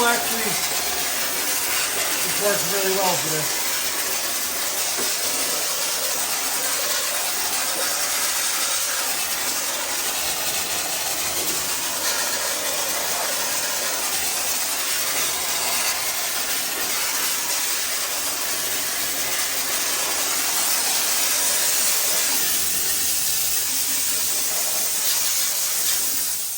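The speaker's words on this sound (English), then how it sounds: "We're going to blast it out with some water and steam." A steady, loud hiss of pressurized steam and spraying hot water from a steam cleaner runs throughout, with a voice speaking briefly underneath.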